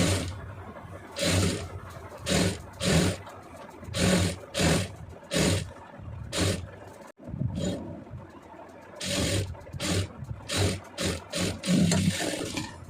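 Sewing machine stitching around the neckline of a cross-cut blouse, running in repeated short bursts of mechanical whirring with brief pauses between them, close and fairly loud.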